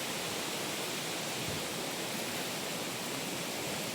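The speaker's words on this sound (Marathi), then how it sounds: "छोटा धबधबा आहे" Small waterfall at Chandranagar giving a steady, dense rush of falling water, loud and unbroken throughout with no other sounds standing out.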